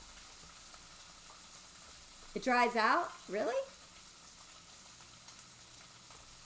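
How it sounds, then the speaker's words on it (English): Bacon on a parchment-lined sheet pan sizzles softly, crackling quietly in the background while a person briefly speaks a couple of short phrases. "Love that sizzle, sizzle."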